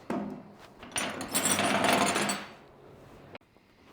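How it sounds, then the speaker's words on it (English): Scraping on old 1951 Chevy steering parts, a harsh rasping stretch of metal-on-metal rubbing that swells and fades over a couple of seconds, ending with a sharp click. "But I'm gonna spend some time scraping crud here,"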